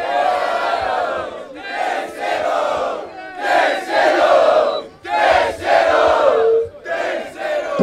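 A crowd at a rap battle in Barueri, São Paulo roars, cheers and shouts in loud surging waves, dipping briefly between bursts, dense and close throughout.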